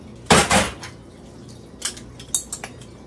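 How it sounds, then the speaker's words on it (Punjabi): A metal pressure cooker is opened in a home kitchen with utensils clattering: two loud close clanks come first, followed by a few lighter, scattered clinks of metal on metal, with no talking. "ਮੇਰਾ ਕੁੱਕਰ ਬੜਾ ਵਧੀਆ ਖੋਲੀ ਲਿਆ"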